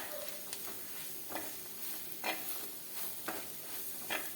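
Spice powders and raw mango being sautéed in a pan give a soft, steady sizzle, with a few brief scraping stirs coming at intervals. No voices are heard.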